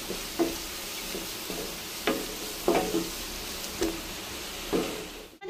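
A spoon scrapes a pan of sizzling mutton curry seasoned with garam masala, about five firm strokes at an uneven pace over a constant close frying hiss, ending in a short knock.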